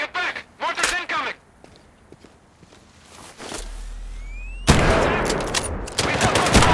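Shooter combat in Sniper Ghost Warrior 3 as radio-style voices call out, followed by a loud, dense burst of gunfire and explosive rumble from a mortar strike, close and continuous to the end.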